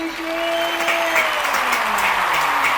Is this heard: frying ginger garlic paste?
no